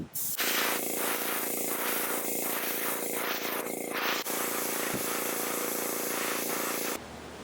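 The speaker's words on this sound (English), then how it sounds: "first step is to paint it white" An airbrush or spray gun hisses steadily while coating a fishing lure white, a loud continuous spray with rhythmic pulses of tone, then cutting off near the end.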